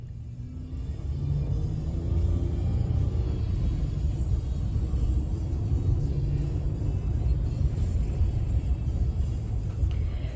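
A car drives along a road in a Quebec snowstorm, its cabin filled with a steady, loud low rumble and road noise throughout, with no talk heard.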